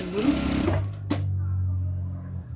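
A sewing machine stitching an embroidered cloth diaper, a short close burst of rapid stitching that stops, followed by a sharp click and a low lingering motor hum.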